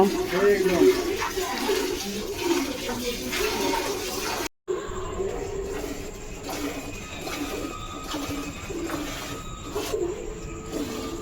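Water is poured and splashed over a cow being bathed, a continuous wash of running, splattering water under frequent talking, broken by a brief silent cut midway.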